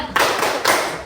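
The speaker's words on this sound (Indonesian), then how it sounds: "Tepuk semangat." Two loud, broad hand claps close by, part of a "tepuk semangat" group clap routine, spaced about half a second apart.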